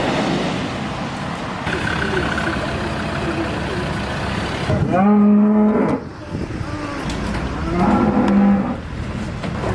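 Frightened cattle moo loudly and repeatedly while being led to slaughter, long bellowing calls close by over a background of vehicle rumble.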